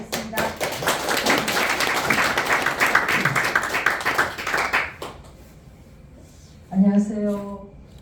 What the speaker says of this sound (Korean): 큰 박수로 또 다시 한 번 더 환영해 주시기 바라겠습니다